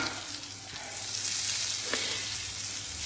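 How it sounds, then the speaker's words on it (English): Butter sizzling in a pan greased for homemade pizza, a steady close hiss with a low hum underneath that stays even throughout, without speech. "we are going to grease the pan with the butter"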